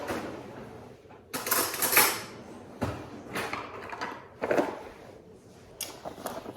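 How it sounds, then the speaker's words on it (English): Cold-pressed wellness-shot juice is stirred with a spoon in a container. Several separate bursts of clinking and scraping come close by, with quiet gaps between them. "So let's give this a stir."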